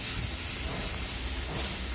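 Water and spices for a Bengali fish curry boiling in a pan, giving a steady, close hiss and bubbling that holds evenly throughout with no talk.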